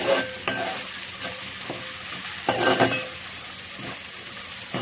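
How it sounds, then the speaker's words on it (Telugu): Onion pieces frying in oil, with a steady close sizzle throughout and several bursts of stirring scrapes on the pan, loud and continuous with no talking. "ఉల్లిపాయ ముక్కలు వేగిపోయినాయండి"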